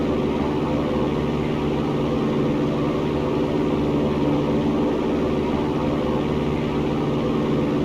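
A light propeller airplane engine runs at full power in a stall recovery climb, a steady unbroken drone with a low rumble that stays constant and moderately loud throughout.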